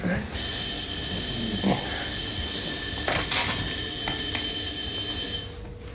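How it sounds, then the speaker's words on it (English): A building fire alarm sounding during maintenance testing: a loud, steady high-pitched electronic buzz held for several seconds before cutting off, with faint voices and movement underneath. "Fire alarm testing maintenance."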